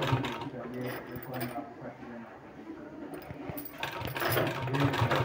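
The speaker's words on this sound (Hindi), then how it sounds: "बिल्कुल आराम आराम से सिलाई लगाते जाना है।" A sewing machine stitching a neck design runs in quick, rhythmic mechanical bursts of close, moderate clatter. It pauses briefly in the middle, then picks up again more strongly toward the end, with a voice talking faintly in the background.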